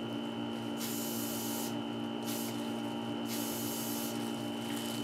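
Several hissing sprays from a spray bottle, a few long bursts over a steady mechanical hum in the background.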